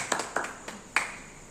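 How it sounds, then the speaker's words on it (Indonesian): A few sharp, separate hand claps ring out in a classroom, four quick distinct slaps spaced unevenly, fairly faint with a quiet room around them. "Tepuk tangan dong buat kita semua."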